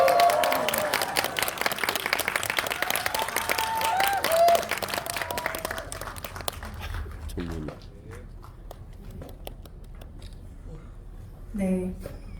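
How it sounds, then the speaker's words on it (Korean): A cinema audience at a post-screening talk applauds to welcome three guests, dense clapping for about six seconds that thins out, followed by scattered quieter sounds, footsteps and a brief voice near the end. "큰 박수로 세 분의 게스트를 환영해 주시기 바랍니다."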